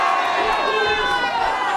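A wrestling crowd cheering for Lockjaw in an arena, a steady roar of many voices, loud and continuous, with a commentator talking over it.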